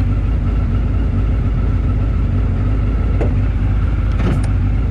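A 2020 Radical SR1 race car engine runs steadily up close, with a loud constant low rumble through the whole stretch and a couple of brief mechanical clicks toward the end, and no voices.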